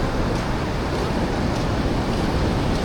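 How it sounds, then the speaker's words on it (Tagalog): Big ocean waves roll in at Copacabana beach in Rio de Janeiro, a loud, steady wash of surf that fills the whole moment without any clear break. "ang laki ng alon"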